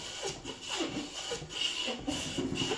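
Short strokes of a small Bailey hand plane taking very thin shavings from timber on a timber-framed table base, each pass giving a soft, close rasping hiss in a steady back-and-forth rhythm.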